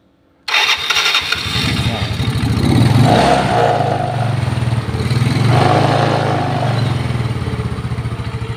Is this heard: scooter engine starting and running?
yes